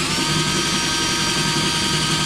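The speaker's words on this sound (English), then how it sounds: "I really hate drilling out locks." A power drill grinds into the lock of an arcade machine, giving a loud, continuous whining drone that holds steady and close for the whole stretch, with no pauses and no voices.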